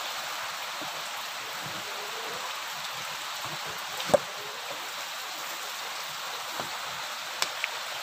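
Rain falls over a countryside garden on a porang plantation in Purbaratu, a soft, steady hiss of drops with a few faint nearby drips and taps, quiet and without voices.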